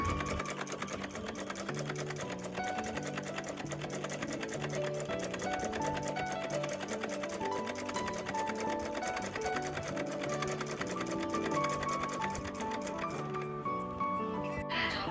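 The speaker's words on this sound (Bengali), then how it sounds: "এই যে বসে গেছি মেশিনে তো সাইড সেলাই করব" Sewing machine stitching the side edges of a bedsheet, a steady rapid mechanical clatter running continuously up close, with no talking.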